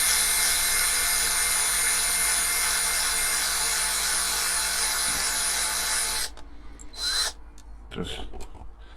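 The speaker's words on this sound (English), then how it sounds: "Use the 2mm drill just to get the head started." A small high-pitched 2mm drill whines steadily for about six seconds, close up, drilling into a rivet head on a Corgi Ford Consul model car, then stops, leaving a few brief clicks and handling sounds.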